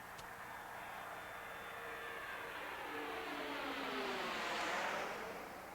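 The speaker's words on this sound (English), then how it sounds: "Columbia is rolling out on runway 22 at Edwards Air Force Base" Space Shuttle Columbia rolls out on runway 22 at Edwards Air Force Base after landing, a faint, distant steady rushing roar that swells slightly toward the end.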